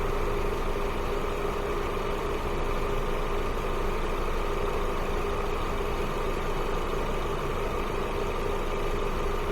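A car engine idles steadily during a head gasket combustion leak test, a constant loud near rumble with no talk.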